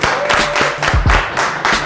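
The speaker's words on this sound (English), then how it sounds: "Clap it up for him, clap it up for him." A cooking competition crowd applauds a contestant: a short burst of irregular, moderately loud clapping from a small group, fairly close.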